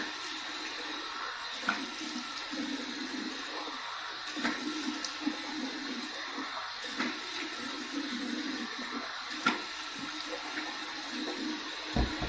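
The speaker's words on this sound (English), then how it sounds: "Here's my warm water rinse." Warm tap water runs steadily into a sink for a face rinse after a shave, a continuous splashing stream with small spatters and knocks and no talk.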